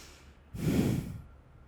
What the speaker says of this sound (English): So a little bit more powerful breath, activating the organic body